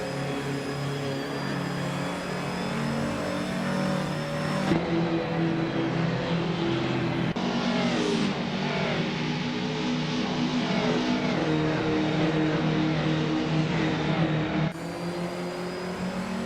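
A 2006 Ford Spec Racer race car's engine drones continuously at high revs, with the pitch rising and falling through gear changes and a few abrupt cuts in tone as it runs at pace on track.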